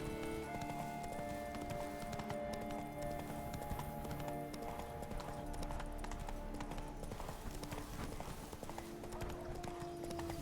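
Geralt's horse Roach gallops in the video game Witcher 3, a steady, rhythmic clip-clop of hooves running continuously over a game background with music.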